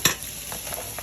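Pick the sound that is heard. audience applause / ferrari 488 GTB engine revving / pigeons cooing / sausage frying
sausage frying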